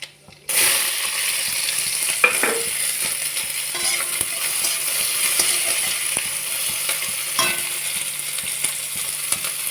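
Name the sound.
onion and black cumin frying in hot oil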